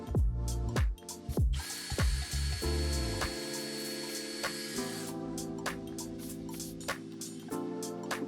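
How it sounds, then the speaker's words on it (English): A power drill boring holes into white oak sides, heard as several short whirring bursts that settle into a steady, high-pitched sustained drive, close up with no talking. "You want to be really careful drilling into the sides so you don't go all the way through."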